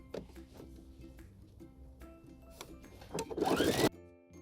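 Sewing machine hemming a giant circle skirt, faint quiet stitching with soft ticks, then a short louder burst of fast running near the end before it stops.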